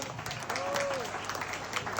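Applause rises at a banquet dinner celebrating a Tin Hau festival, a steady crowd clapping over a room murmur with a faint voice nearby.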